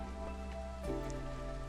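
Steady rain falling in the Against the Storm city-building game, a soft continuous patter under tonal game music, with a slight swell partway through.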